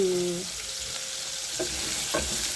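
Potatoes frying together with onions in a pan give a steady close sizzle, with a few brief scrapes or stirs near the end.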